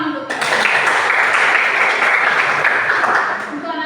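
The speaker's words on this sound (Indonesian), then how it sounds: "Tepuk tangan untuk kita." A classroom of students bursts into applause, a close, lively patter of clapping that starts abruptly, holds steady for a few seconds and then tapers off.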